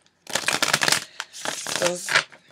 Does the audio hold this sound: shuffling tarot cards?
yes